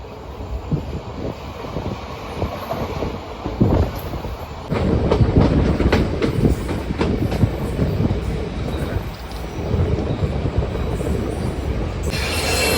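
A DEMU passenger train runs on rails on the Kulem to Vasco-da-Gama line in Goa, with a loud continuous rumble, rhythmic clickety-clack of wheels over joints and some wheel squeal, heard from on board.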